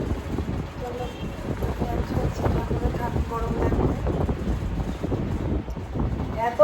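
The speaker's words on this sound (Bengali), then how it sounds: "চারটানার উপরে না ভীষণ হাওয়া দিচ্ছে" Strong wind blowing across a rooftop on a hot day, with a steady, rumbling roar and gusts buffeting the microphone throughout while a person talks over it.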